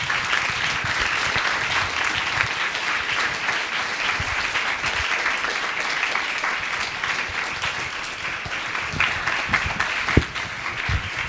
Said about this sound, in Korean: 여러분들 큰 박수로 이렇게 쳐주면 감사하겠습니다